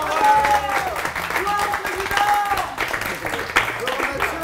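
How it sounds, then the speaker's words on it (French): Audience applause on a French student-produced show: a steady patter of clapping runs throughout, mixed with cheering voices and tonal whoops that rise above it. "bravo, on peut l'applaudir."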